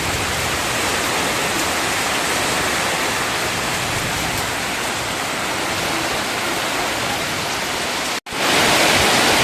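Heavy rain pouring down in the dark, a dense, steady broadband hiss that stays loud throughout, with a brief dropout near the end before it resumes even louder.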